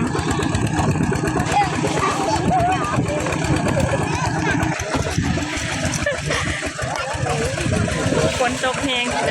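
A farm tractor engine runs steadily on a rural road in Laos after rain, a dense low chugging drone that stays loud throughout while people talk over it.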